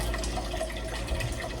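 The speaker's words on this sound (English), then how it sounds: "I'm just gonna pour a couple bottles of water in the pot and get the water hot" Bottled water pours into a cooking pot with a steady, splashing rush that runs unbroken, close and moderately loud, without talk.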